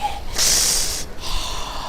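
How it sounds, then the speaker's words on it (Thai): Heavy in-game breathing from a character in the Western shooter Call of Juarez Gunslinger, one loud rasping inhale-exhale burst near the start followed by softer breath, with no speech over it. "หายใจดังงึดงึด"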